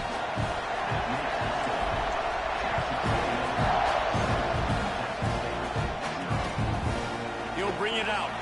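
Stadium crowd roar in a college football video game, a constant loud wash of cheering that fills the background while play-by-play commentary talks over it.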